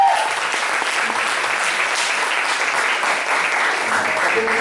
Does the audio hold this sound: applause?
yes